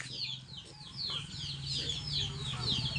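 Chickens cluck and chirp repeatedly close by, a busy run of short calls over a low steady hum.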